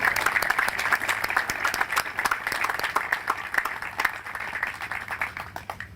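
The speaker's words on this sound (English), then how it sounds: "Let's give those folks a round of applause for all they've done at the cemetery." An audience claps at a veterans cemetery's 30th anniversary observance in North Dakota, a dense, even wash of applause holding steady from start to finish.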